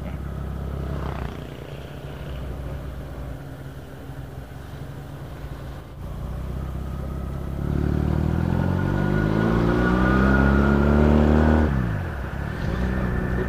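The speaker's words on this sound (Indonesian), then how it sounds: "Ada truk muat kayu jati." A truck loaded with teak wood drives along a rural village road, its engine droning low at first and then rising into a louder, closer revving pass before fading.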